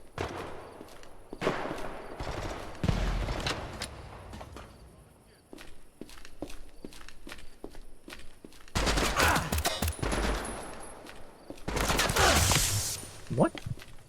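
Bursts of gunfire from an FTA gun in the VRChat video game, crackling in clustered volleys between footstep-like taps, with scattered voices talking in the background.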